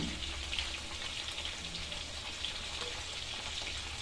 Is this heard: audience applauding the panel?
no